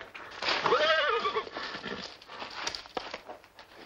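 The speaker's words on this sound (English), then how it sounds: "A horse coming." A horse neighs loudly with a rising, wavering whinny, followed by fainter rustling and movement.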